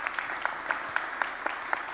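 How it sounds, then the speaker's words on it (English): Applause for a panel at an institute's live-streamed event, heard as a thin, regular series of single claps, fairly faint and spaced evenly, with no speech over it. "give them a round of applause"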